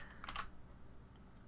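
A few quick, faint keystrokes on a computer keyboard, a brief cluster of soft clicks over a low room hiss, with no voice.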